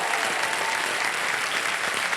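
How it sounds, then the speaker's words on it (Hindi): A studio audience on a televised Hindi quiz show claps for the contestant families, a dense, steady wash of applause with no voices on top. "मैं चाहता हूं कि सब लोग ताली बजाएं इनके लिए।"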